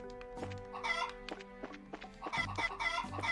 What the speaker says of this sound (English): The place where we can attack chickens.